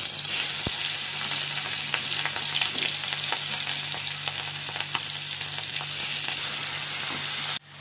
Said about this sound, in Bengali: এবার আমি এর মধ্যে চিংড়ি মাছগুলোকে সব ভেজে নেব।